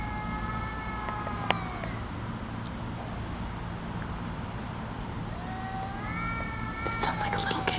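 Mating cats yowling in long, wavering wails, one cry near the start and more near the end, somewhat distant over a steady background hum.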